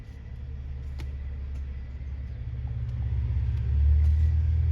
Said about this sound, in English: I can just listen to that old 300 sing its song.